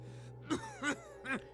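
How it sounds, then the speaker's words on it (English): A man in the Pillars of Eternity video game chokes on smoke and gives three sharp, harsh coughs in quick succession, each separated by a short pause, close and fairly quiet over a low background hum. "all there emerges is a series of violent coughs"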